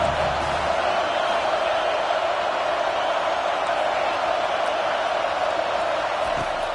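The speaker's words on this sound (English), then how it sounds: "Decibels rising as the crowd gets behind this defense on 3rd down." A college football stadium crowd at Alabama vs Georgia roars behind the defense on third down: a loud, sustained wall of cheering with no breaks.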